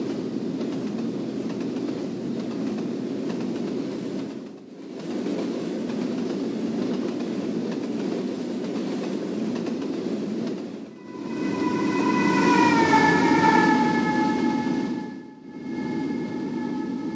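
Freight train rolling past close by on a mainline: a loud, continuous rumble and roar that briefly dips twice, with a horn-like sustained tone sounding partway through.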